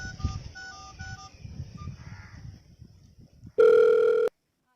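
A telephone call goes out: faint keypad dialing beeps over quiet room noise, then a single loud, steady ring tone lasting under a second.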